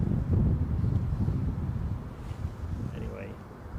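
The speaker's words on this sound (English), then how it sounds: "That wind really is exceeding expectations." Wind buffets the microphone at Heathrow airport in a gusty crosswind, a steady low rumbling roar throughout with slight surges, no other distinct sounds standing out.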